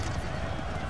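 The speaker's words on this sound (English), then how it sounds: "An idiot horse trying to get inside of a building." Horse hooves clip-clopping with a whinny in the Empire Total War strategy game, a short, dense burst of game sound with faint talk underneath.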